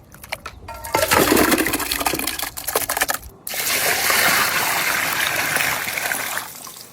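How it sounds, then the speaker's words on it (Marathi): Kapore are washed in clean water, with splashing, rinsing and clattering as they are handled in a vessel. Short bursts lead into a longer, steady stretch of pouring and swishing water that fades at the end. "आपण आता कपुरे व्यवस्थित धुवून घेऊ स्वच्छ पाण्याने।"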